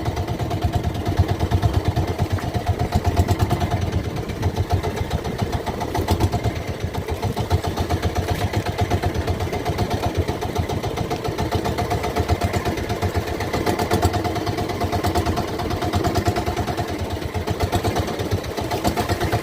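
A boat's engine drones steadily throughout, a low continuous rumble with some clatter, running close and loud with no talking.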